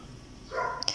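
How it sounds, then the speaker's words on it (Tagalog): A dog barks once in the background indoors, a faint short yelp after a brief whine, distant and quiet. "Pasensya na po sa aso sa background."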